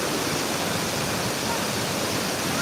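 Kuang Si waterfall in Luang Prabang roars as a dense, even wash of falling water. The sound is loud and close, constant from start to finish without a break.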